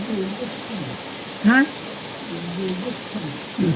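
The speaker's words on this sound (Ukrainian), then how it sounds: "А, такий грубий, файний дощ падає." Heavy, coarse rain falls steadily as a broad hiss across the whole stretch, with someone talking over it and one brief louder swoosh midway.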